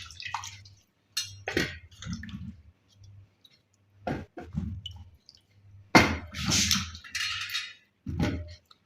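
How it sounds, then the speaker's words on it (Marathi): Sweet potatoes washed by hand in water in a kitchen, intermittent splashing, dripping and squishing in short bursts over a low steady hum. "इथे आपण रताळी छान स्वच्छ धुवून घेऊ।"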